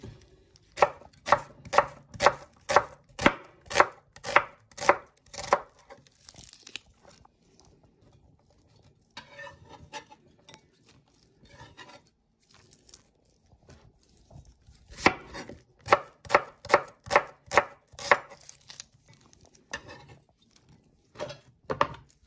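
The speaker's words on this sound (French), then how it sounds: "Et j'émince les petits poireaux." Small leeks and an onion are sliced with a knife on a board. Quick bursts of rhythmic chopping taps are separated by pauses and softer handling sounds.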